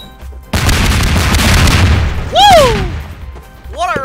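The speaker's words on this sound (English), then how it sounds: "Just setting up some bombs." Bombs burst in Garry's Mod Melon Bomber, a sudden loud rumbling blast that holds for about two seconds, then a swooping cartoonish whistle and a second rising tone near the end.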